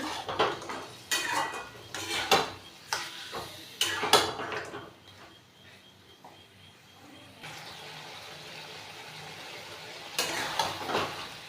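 Mutton curry being stirred and sautéed in a metal pot, with a spoon clanking and scraping loudly against the pot in irregular bursts and a quieter sizzle running between them.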